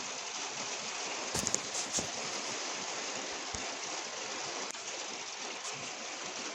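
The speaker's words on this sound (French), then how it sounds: "Vous entendez soudainement une averse, une grosse averse." A heavy rain shower pours down in a dense, even hiss that continues throughout, with a few brief knocks and drips standing out above the steady downpour.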